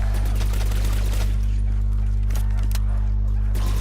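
Rapid gunfire from the Zeus cannon in Call of Duty's Kino Der Toten zombies map, with repeated sharp bursts over a heavy, constant low hum that fills the whole stretch.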